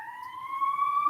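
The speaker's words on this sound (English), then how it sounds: "It occurred to me that the siren would probably be less loud if I closed the window" A siren heard through an open window, its steady wailing tone slowly rising in pitch, fairly clear and close for about a second with no talking.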